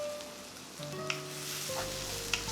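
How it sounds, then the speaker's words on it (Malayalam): Onion, ginger, garlic and green chillies sautéing in a pan: a faint, soft sizzle with a couple of light clicks of a utensil, quiet and without speech. "ഇനി എല്ലാം കൂടി ഇട്ട് ഒന്ന് വഴറ്റിയെടുക്കണം."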